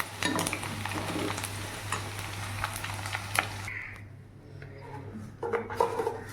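Fried chicken pieces for a spicy chicken pickle are lifted from hot oil into a bowl, with utensil scrapes and clinks over a steady sizzle that quiets partway through.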